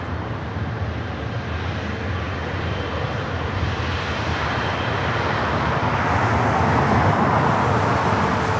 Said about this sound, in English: Flight heading back to Taipei, lining up on 24 left.